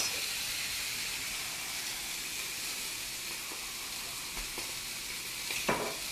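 Sausages sizzle steadily in a frying pan, a continuous close hiss of fat with a few brief clinks and scrapes toward the end, no talking.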